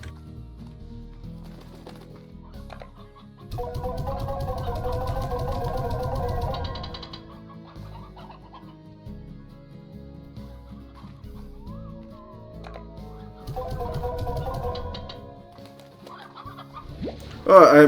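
Hens in the farming game Slime Rancher give soft, repeated clucks over a gentle game soundtrack, coming in two clear bursts and ending in a louder squawk.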